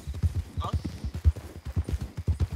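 A galloping horse pounds out rapid, close hoofbeats while being ridden hard, with a brief voice cutting in over the steady rhythm.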